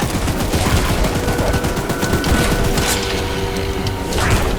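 Rapid gunfire from the video game Choo-Choo Charles, a dense, continuous burst of loud shots with booming, mechanical clatter, steady throughout and without speech.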